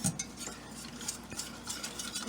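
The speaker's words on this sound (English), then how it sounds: "Get that all mixed up" A spoon stirs sauce for chicken cordon bleu in a pan, making quiet repeated scraping and light clinking strokes in an irregular rhythm, close and soft with no talk.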